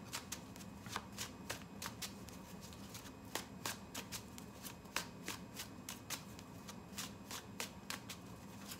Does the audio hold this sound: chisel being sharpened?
no